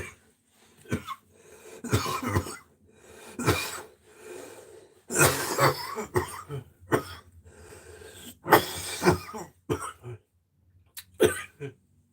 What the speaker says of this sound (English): Because sometimes when I get a coughing fit, it ruins it.